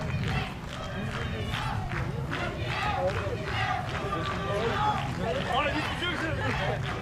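Crowd and teammates cheering and shouting after a mixed team recurve archery bronze medal win at a world championship, a lively burst of voices, whoops and clapping running throughout, fairly close, mixed with an excited commentator's voice.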